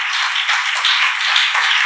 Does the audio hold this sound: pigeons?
no